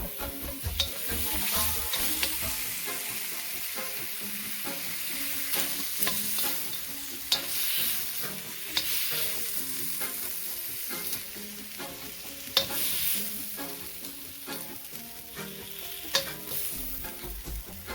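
Shrimp sizzling and frying in a pot, a steady crackle with scraping stirs and occasional sharp clinks as the shrimp are lifted out, moderately close, with no talking.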